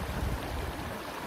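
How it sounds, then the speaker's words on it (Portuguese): Waterfall at the Agroal river beach in Ourém, Portugal: a steady, soft rush of falling water, continuous and fairly distant, with no voices over it. "ao som de cachoeira de um lado"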